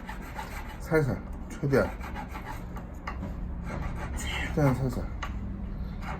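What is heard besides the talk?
scraping inner bottom of gold or silver jewelry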